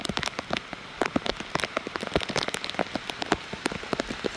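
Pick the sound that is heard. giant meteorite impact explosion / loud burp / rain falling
rain falling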